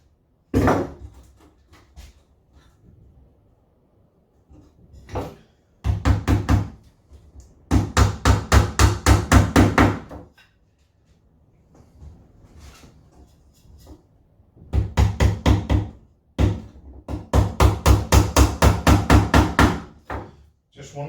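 Small nails being hammered into a wooden beehive frame to hold a sheet of wax, in several bursts of rapid, loud, close taps separated by pauses with some quieter handling.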